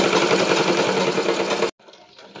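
Sewing machine stitching fabric for a Patiyala pant, a loud close buzzing run of rapid stitches that stops abruptly, leaving faint background sound.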